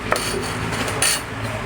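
A knife slices lime pieces on a cutting board in a home kitchen: a few sharp taps and clinks stand out over a steady, busy kitchen background, with no one talking.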